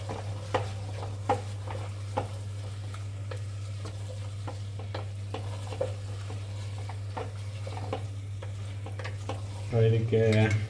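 Rice is stirred into frying mushroom biryani in a home kitchen, a steady close sizzle broken by repeated scraping strokes of a spoon against the pot, with a brief clatter of cookware near the end.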